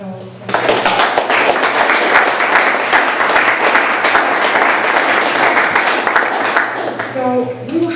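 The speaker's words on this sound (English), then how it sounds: "Can you please give them a round of applause?" Audience applause for a panel at a forum, starting abruptly after a brief spoken line and holding as steady, full clapping before a voice returns at the close.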